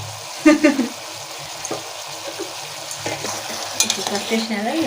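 Cooked-down bottle gourd and turmeric in a pan are stirred, making soft scraping strokes and a few sharp spoon knocks over a low, continuous sizzle, close up and without talk.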